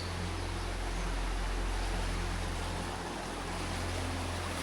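Steady broadband rush of flowing water, continuous and fairly close, with a low hum underneath and no voices.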